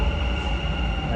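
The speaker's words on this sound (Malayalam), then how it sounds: "ഗൈസ് മെട്രോ വരുന്നുണ്ട് ഗൈസ്." A Dubai metro train approaches a station, a brief steady rumble with a sustained whine close by, and a voice talks briefly over it.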